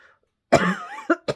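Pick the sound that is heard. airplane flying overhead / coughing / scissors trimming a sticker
coughing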